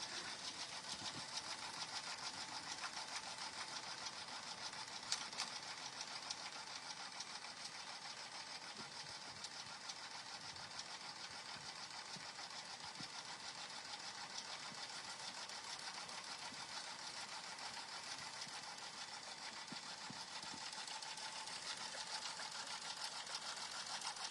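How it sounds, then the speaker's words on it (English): A sewing machine stitching along two sides of a fabric notebook cover, a faint, steady whirring drone with a rapid even rhythm that continues throughout. "All right, 2 side stitch on the machine."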